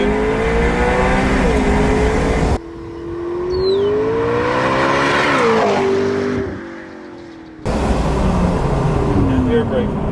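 A 2015 McLaren 650S supercar accelerates hard from inside the cabin, its engine note rising loudly through the gears, with road and engine roar throughout and brief talking in the car.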